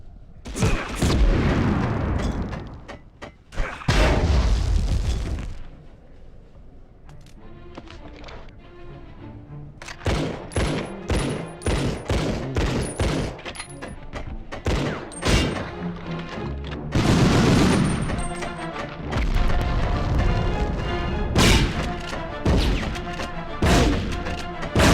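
Enemy gunfire in the Medal of Honor video game, an underground level, with repeated loud sharp shots and booming impacts coming in dense bursts and clusters alongside game music and effects.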